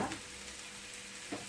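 Onion and bell peppers frying in olive oil in a pan, a steady soft sizzle with a couple of brief stirring scrapes near the start and end.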